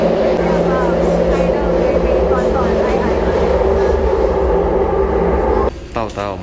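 Cabin ride on a Taiwan High Speed Rail train, with a constant loud rumble and hum, and a person talking briefly near the end.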